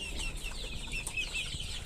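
Two-month-old chicks and roosters on a small farm keep up a busy, overlapping clucking, with a few sharper peeps rising over the flock's constant murmur.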